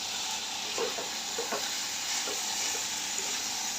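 Koi fish frying in oil for a Bengali koi curry, a steady close sizzle with a few soft stirring scrapes, no voices.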